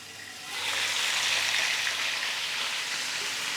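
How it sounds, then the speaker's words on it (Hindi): Masala-coated chicken dropped into hot oil on a high flame, a loud sizzle that bursts up suddenly and then holds as a dense, steady close-up hiss and crackle. "ऑयल गरम होने के बाद हम इसमें चिकन को डाल देंगे।"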